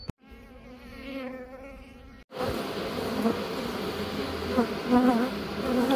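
Buckfast honey bees buzzing in a dense, continuous hum, briefly cut off and then resuming louder and fuller, close by, with no talking.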